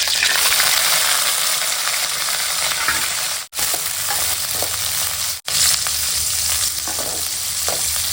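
Green chillies and curry leaves frying hard in hot oil in a pan, a loud, steady close sizzle and crackle with two brief cuts of silence and no talking.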